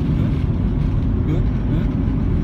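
A car engine drones steadily in second gear while circling a skid pad at Lime Rock, a loud, even low rumble with no changes in pitch, and a voice talks over it.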